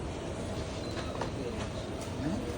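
Train at Chengannur railway station, a steady rumble of a rail car with faint wheel squeals and a background murmur of voices.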